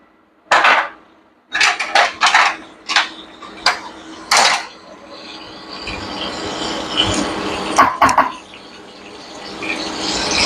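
A metal spoon clatters against a cooker pot as garlic, ginger, green chilli and onion are stirred, making a run of loud, quick scraping knocks, then a steady sizzle with a couple of further clinks.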